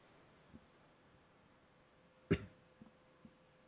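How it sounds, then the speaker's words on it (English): A single sharp cough rings out, followed by a few faint soft thumps against a quiet background hum. "A deeply articulate cough emanates from Louisiana."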